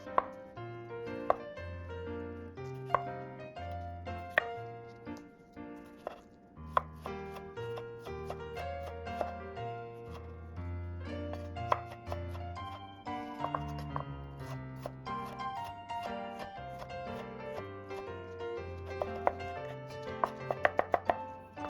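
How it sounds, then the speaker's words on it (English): A knife finely chops three fresh tomatoes on a board for salsa. Quick, light taps come in irregular bursts beneath louder background music. "For fresh tomato salsa, chop finely 3 tomatoes."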